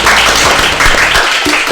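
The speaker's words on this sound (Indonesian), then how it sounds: "Tepuk tangan" Clapping breaks out among a few people during a podcast conversation, loud close handclaps in an uneven burst with a brief voice near the end.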